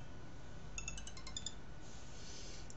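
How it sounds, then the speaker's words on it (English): A phone rings for an incoming call with a short run of bright, chiming ringtone notes, fairly faint in a quiet indoor room with a low background hum and no voices. "Someone's ringing me."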